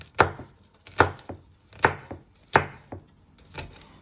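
A knife chops chili pepper into small pieces on a cutting board for Thai-style chicken and ribs, six sharp, evenly spaced thunks about a second apart, close and alone with no talking.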